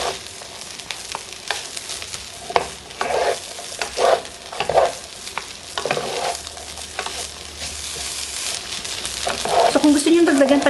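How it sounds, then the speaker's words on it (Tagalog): Rice and bagoong are stir-fried together in a pan, with repeated scraping and tossing of a spatula over a light sizzle, irregular strokes close by, and a voice talking at times. "make sure lang na mahalo nyo mabuti yung inyong rice at saka yung bagoong para even yung color niya"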